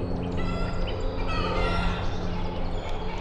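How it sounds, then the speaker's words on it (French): Chickens cluck and call nearby, overlapping fowl vocalizations over a low steady background hum, fairly loud and continuous. "ils vont se la fermer les poules."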